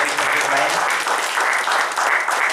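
Loud, dense applause from an audience at an award function in Indore, Madhya Pradesh, steady broadband clapping sustained throughout with faint voices mixed in.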